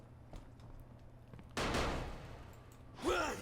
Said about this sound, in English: No idea why there's fireworks keep going off, but okay